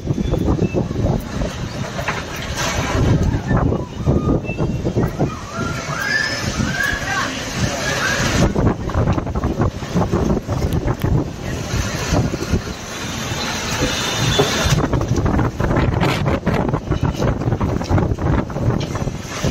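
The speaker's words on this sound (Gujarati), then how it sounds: "વાંકાનેરમાં જોરદાર પવન સાથે વાવાઝોડું ચાલુ." A strong windstorm in Wankaner, Gujarat, with heavy gusting wind buffeting the microphone in a continuous roar and faint voices underneath.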